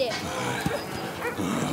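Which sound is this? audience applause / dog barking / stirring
dog barking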